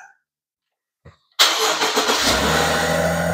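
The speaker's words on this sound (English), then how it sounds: "it's a slow start. And so I'm saying it's starting up less RPMs on the start with this LS500" A 2018 Lexus LS500 engine starts after a quiet pause, with a sharp catch and then a steady, fairly loud idle close to the microphone, with no talk over it.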